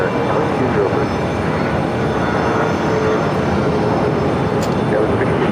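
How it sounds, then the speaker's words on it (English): Departing American Airlines Airbus jet at Phoenix airport, a steady broadband roar of jet engines holding loud and constant throughout, with no distinct voices over it. "We have the departing Airbus flight from American 2203."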